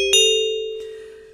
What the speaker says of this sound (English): we're getting this kind of bell-like sound. Or metallic is another way to say it